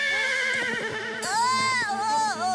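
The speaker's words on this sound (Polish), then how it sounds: "Przecież ci mówię, że to miły koń" Cartoon horse giving a loud, shrill whinny, with light hoof clip-clops and a busy background beforehand, and no talk over it.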